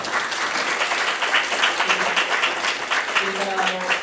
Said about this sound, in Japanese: お二方に皆さん拍手を